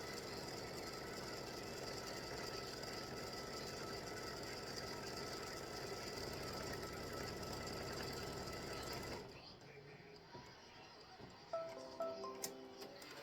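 An embroidery-style sewing machine stitches a baseball design onto a colored fabric piece with a dense, steady whirring hum, cutting off abruptly around nine seconds and leaving faint clicks and knocks afterward.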